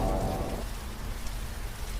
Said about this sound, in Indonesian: Hujan sungguh sangat lebat kali ini.